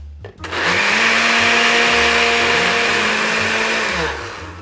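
A blender whirs loudly up to full speed mixing an espresso-based sports drink, a steady motor drone that holds for about four seconds and then winds down.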